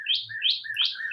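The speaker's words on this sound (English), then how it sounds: "Can y'all hear that bird?" A small songbird chirps in a quick run of four or five bright, repeated tweets, close and clear, with no voices.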